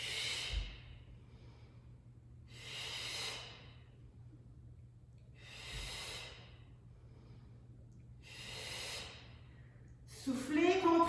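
Repeated forceful exhales during a Pilates exercise, four hissing breaths spaced a couple of seconds apart, quiet and close, with a low hum underneath and a brief voice at the end.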